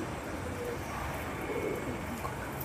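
Pigeons of old breeds coo in a steady, dense murmur of soft low calls that fill the whole stretch, with no clear pauses.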